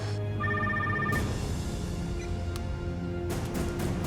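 Telephone ringing with an electronic ringtone, a brief repeated trill over a steady background hum, followed by a couple of short clicks and beeps.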